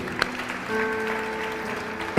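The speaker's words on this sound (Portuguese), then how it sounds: "Você pode aplaudir o Senhor pela igreja dele aqui?" A church congregation applauds together during a worship service, a brief, moderately quiet burst of clapping blended with sustained tones in the background, swelling sharply at the very end.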